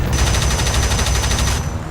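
Rapid, loud automatic cannon fire from a MiG-3 in War Thunder rattles in a steady burst for well over a second, then cuts off, with a low rumble underneath.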